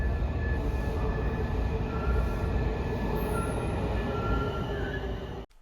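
An Amtrak passenger train hauled by an electric engine rolls on rails out of Washington, D.C., a loud steady rumble with a faint wheel squeal, close and continuous until it cuts off abruptly near the end.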